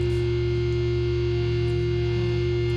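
A heavily distorted electric guitar holds a sustained, buzzing chord, loud and steady throughout with no voices.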